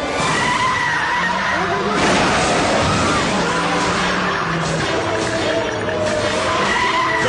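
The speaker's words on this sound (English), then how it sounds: "The car skids straight into the path of speeding daredevils." Tires screech as a hot rod car skids and burns rubber beside a motorcycle racing track, a loud sustained squeal with engine roar and crowd noise, narration running over it.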